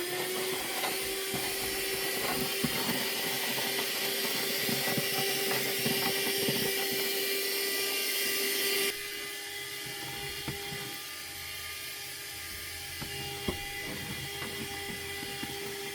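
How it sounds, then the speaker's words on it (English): A small plug-in car vacuum cleaner of low power runs inside a converted hightop camper van. It gives a steady whine that drops abruptly to a quieter, lower hum about halfway through and then stays constant. "I have this little vacuum that just plugs right in"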